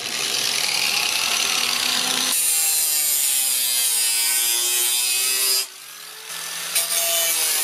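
A stainless steel container is sawn by hand to form a crucible for melting aluminum cans: loud, close rasping strokes with ringing metallic resonance, a brief pause near the end, then more cutting.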